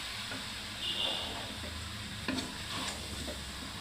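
Water poured into a wok of braised chicken that has been fried down until the oil separates, setting off a steady loud sizzle with a spoon stirring and a couple of sharp clicks.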